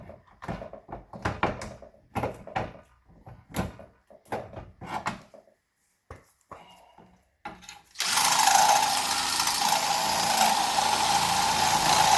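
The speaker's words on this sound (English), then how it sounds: "I might have to ream these holes just a tiny bit." Irregular bursts of knocking and whirring give way to a loud, steady drone as a power tool reams out bolt holes on a winch mount for a Brute Force 750 ATV, running close and unbroken to the end.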